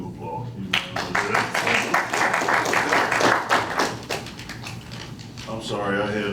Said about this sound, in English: Now we can do applause.